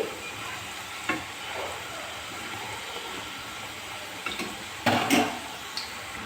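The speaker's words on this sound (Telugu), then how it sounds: "మళ్ళీ కొద్దిసేపు అయితే ఇలానే డీప్ ఫ్రై చేసుకోవాలి ఇలా కలర్ చేంజ్ అయ్యే వరకు అయితే వేయించుకోవాలి" Puffed rice vadas deep fry in hot oil with a steady close bubbling sizzle, broken by a few louder splattering bursts and clinks near the end. No one speaks.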